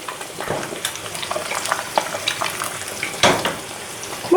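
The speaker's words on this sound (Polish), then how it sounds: "i już jajka nam się smażą" Steady sizzle of sunny-side-up eggs frying in a pan, crackling and popping throughout with a louder spatter burst near the end.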